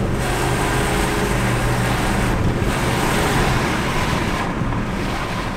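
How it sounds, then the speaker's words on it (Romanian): Steady broadband road and engine roar from inside an Audi A8 4.2 petrol moving at speed on a highway, continuous and loud with wind rush, no voices. "Nu știu cum se aude motorul, dar cred că de afară se aude bine."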